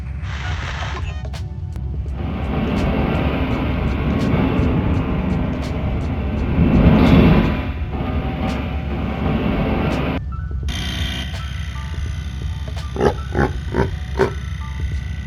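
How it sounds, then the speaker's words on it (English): Slowed-down sound effects from the spotlight mission in GTA Vice City play on a bootleg PlayStation 2 radio station: deep, dragging, distorted rumbles and groans with some eerie tones, a brief cutout, then a series of stretched, pulsing bursts. "the bootleggers decide to use the sound bank from the mission G Spotlight when Tommy was setting up the spotlight at the end, but it's played in slow motion"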